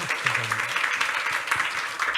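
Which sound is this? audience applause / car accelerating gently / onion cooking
audience applause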